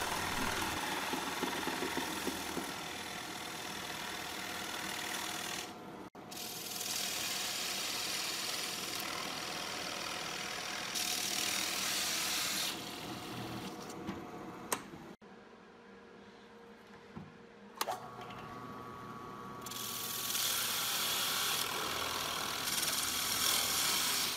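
A drill boring 1 3/4 inch holes through wood runs as a steady, grinding whine in several long passes, broken by short pauses between holes, with no talk.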